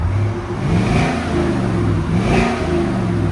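A 2015-2020 Chevy Suburban with a 5.3L V8 revs through aftermarket exhaust mufflers, a loud, close engine drone that swells and eases in two smooth rises over a few seconds.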